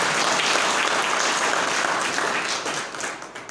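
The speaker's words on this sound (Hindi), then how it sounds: "अच्छा, हमारे लिए ताली बजा दी।" Schoolchildren at Amaundi +2 High School in Khunti, Jharkhand break into loud, dense applause, a crowd of hands clapping together that holds steady and then begins to thin and fade toward the end.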